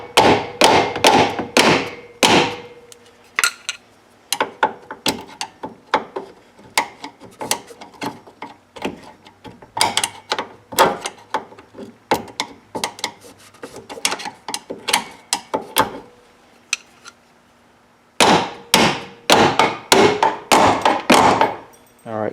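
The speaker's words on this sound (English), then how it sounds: "The gap is too long, too large, so you just take your hammer." A hammer tapping on the door hinge pin of a 1990 Chevy pickup: rapid bursts of sharp metallic strikes in clusters, separated by brief pauses, loud and close with no talking.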